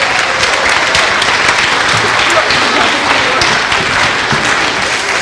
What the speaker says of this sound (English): One more round of applause for the 7th grade band